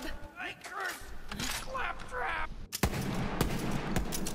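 Boom Sickle gun in Borderlands 3 firing, with a sharp burst of shots landing in the second half over continuous game noise, following a stretch of voice-like chatter.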